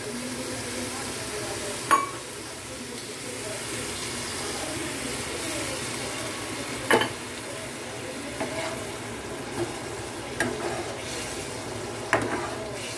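Mutton and potato filling stir-fries in a pan, a soft continuous sizzle with occasional sharp scrapes and taps of a spatula against the pan at irregular intervals.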